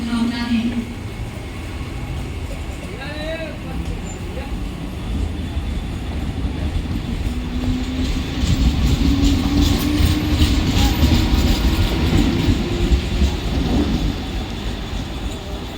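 A Mumbai local train rumbles and clatters along the platform at Mumbai Central station, growing louder midway, while a station announcement voice plays over it.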